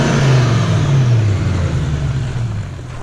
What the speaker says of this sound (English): That's the first time I've heard a proper exhaust note. And this is the V8, this isn't even the V12, and it's so loud